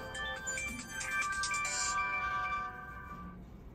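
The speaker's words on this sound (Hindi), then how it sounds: "एक तो बीच में फोन आ जाता" A bright electronic mobile ringtone plays a repeating melody for a few seconds, then stops, leaving quiet background hum.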